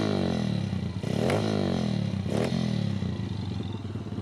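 A dirt bike engine revs hard on a track, its pitch sweeping up and down in repeated loud, close surges with clattery mechanical noise throughout.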